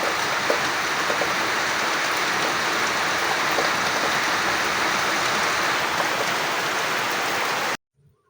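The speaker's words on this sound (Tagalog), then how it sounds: "biglang bumuhos ang napakalakas na ulan" Heavy rain pouring down outdoors at a cemetery while someone shelters under cover, a loud dense steady roar that continues unbroken for several seconds and then cuts off abruptly.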